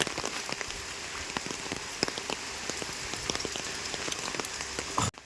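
Steady monsoon rain pours down, a dense broadband hiss with scattered drop patter on surfaces, constant and fairly loud throughout, cutting off abruptly near the end.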